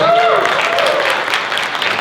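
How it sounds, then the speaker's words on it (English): Audience applause fills a convention panel at PAX East 2020 for Grumpy Old Gamers, a steady dense clatter lasting throughout, with a voice briefly heard over the start. "A round of applause."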